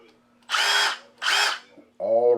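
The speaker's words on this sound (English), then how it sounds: "beautiful impact drill" Milwaukee M18 FUEL brushless cordless impact drill, run in two short loud whirring bursts close by, then a third burst starting at the end, with quiet gaps between them.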